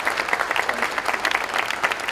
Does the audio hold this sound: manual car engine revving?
no